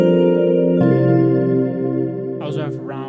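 Rippler X, a free plugin cloning Chromaphone's resonant physical-modelling tones, rings out as a sustained tonal chord that is re-struck partway through and slowly decays, with a short burst of speech near the end.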